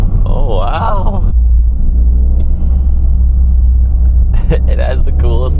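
Toyota GR Corolla engine at close range, a deep constant rumble with throttle stabs and let-offs, heard under people talking and exclaiming over it.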